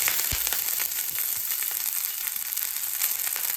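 Green chillies frying in hot oil, a steady close crackling sizzle with a soft thump at the start as they hit the pan, no talking.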